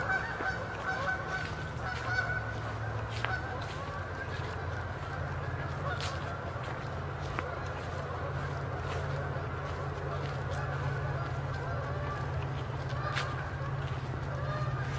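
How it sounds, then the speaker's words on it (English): Canada geese honk and chatter at a wetland refuge, a steady mix of calls of varying distance over a low hum across the whole stretch, with no clear talk. "I worry when I hear the increase in Canada goose chatter."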